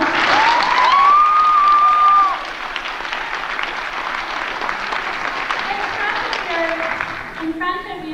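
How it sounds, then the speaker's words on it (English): An audience applauds the judges at an Idol-style singing competition, a dense, steady round of clapping that stays loud throughout and tapers slightly near the end, with a voice briefly heard over it. "Our wonderful judges, I think they deserve a round of applause."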